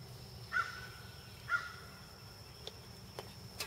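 Two faint, well-spaced crow caws carry outdoors at a camp on Memorial Day, somewhat distant, followed by a couple of soft ticks against a steady hiss of background.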